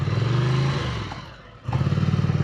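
2019 Ducati Scrambler motorcycle riding through dry abandoned woods, its engine burbling close and loud, dipping off the throttle and then pulling again.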